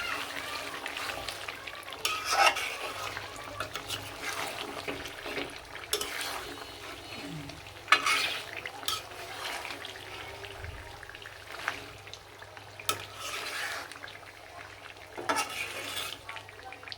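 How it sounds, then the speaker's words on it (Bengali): Boiled potatoes frying with meat in a pan, soft sizzling under intermittent scraping and clattering of a spoon against the pot, fairly quiet and close, with occasional louder knocks. "এখন আমি মাংসের সাথে এটা কষাবো"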